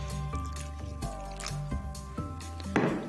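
Pancake batter made with flour and water is mixed by hand, giving steady, repeated wet squishing and sloshing strokes with soft drips. The sound stays close and fairly even throughout, and no one speaks.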